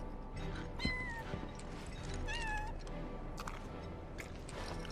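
Cat in the video game Final Fantasy VII Rebirth giving a few distinct meows, clear and close over a steady outdoor game ambience with no talking.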